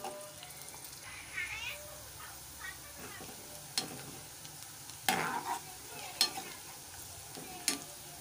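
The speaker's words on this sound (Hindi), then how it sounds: "ऑयल हमें अनियन हमें तकरीबन लाइट ब्राउन करनी है। लाइट ब्राउन होने तक हम इसे भूनेंगे।" Sliced onions frying in oil until light brown, a quiet continuous sizzle broken by occasional scraping stirs and clinks of a spoon against the pan.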